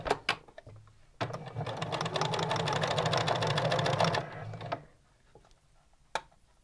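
A sewing machine stitches along the end strip of fabric bunting in one steady, rapid run of about three seconds, framed by a few sharp clicks and handling taps before and after.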